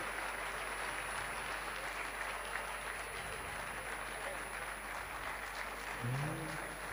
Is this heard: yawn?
no